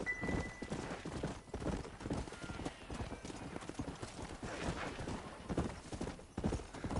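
Horse hooves clip-clop in the Red Dead Redemption video game on PS5, a steady galloping rhythm that runs throughout at close range, with a whinny early on.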